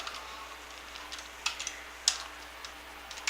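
Keys tap on a computer keyboard in a scattered run of light clicks, with a few sharper strokes mixed in, close and fairly quiet over a low background hum and no talk.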